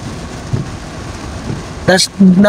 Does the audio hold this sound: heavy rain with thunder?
yes